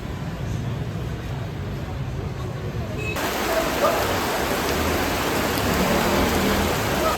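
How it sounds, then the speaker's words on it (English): Heavy tropical rain pouring down in Hanoi, a dense steady hiss that swells and grows louder partway through, continuous and close with no voices. "So the tropical rain is pouring down now."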